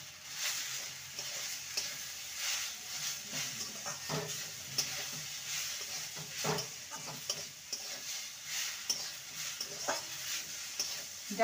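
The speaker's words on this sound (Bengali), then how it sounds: "ভালো করে নেড়ে নেব।" Parwal and moong dal tossed with spices, salt and garam masala in a frying pan, a spoon scraping and stirring in irregular strokes over a continuous soft sizzle.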